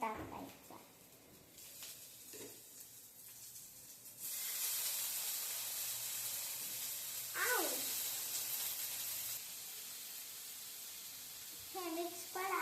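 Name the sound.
onion frying in a kadhai for paneer bhurji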